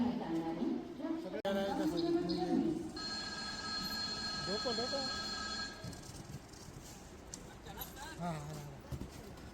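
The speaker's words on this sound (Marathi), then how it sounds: "आणि हीच ती ट्रेन जी तब्बल पाऊण तास लेट आली." A train arriving at a station after running about forty-five minutes late, with a sustained tonal horn or squeal over rumbling noise and people talking around it.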